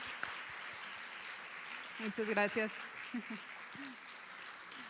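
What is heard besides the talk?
audience applause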